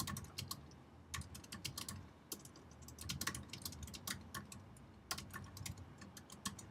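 Fingers tap out a message on a computer keyboard, quiet rapid clicking keystrokes in uneven bursts with brief pauses, close by and alone.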